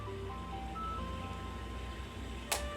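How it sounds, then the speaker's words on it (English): An ice cream truck outside plays its tinkling melodic jingle, faint and distant over a steady low background hum, ending with a brief sharp click. "the ice cream truck's here"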